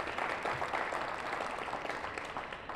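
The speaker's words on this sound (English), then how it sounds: "So give yourselves a round of applause." Applause from an audience at a charity fund closeout celebration, a thick, steady rush of many people clapping at moderate volume with no voices over it.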